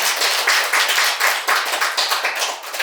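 Congregation applause during a church service, a dense, loud stretch of many hands clapping together with slight rhythmic pulsing, filling the room without any voices over it.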